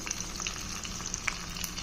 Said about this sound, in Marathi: मंद आचेवर हे तेल छान उकळवून घ्यायचे आहे